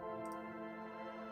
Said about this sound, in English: Good old soft piano.